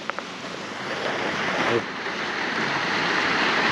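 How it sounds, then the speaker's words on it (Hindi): Steady rushing water flows nearby at Namche Bazar on the Everest Base Camp trek, a continuous broadband wash with wind noise on the microphone and no clear talk. "ये देखिए पानी चलता हुआ आ रहा है।"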